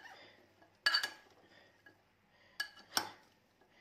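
A spoon clinks against a bowl while sweet corn salad is stirred with lemon juice, a few sharp metallic taps in two brief clusters over quiet background.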